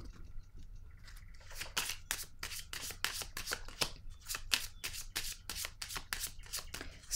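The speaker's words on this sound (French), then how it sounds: "Ah, je vais déposer une carte ici." Tarot cards are shuffled in a quick, even run of riffling snaps that repeat steadily throughout, soft and close with no voices.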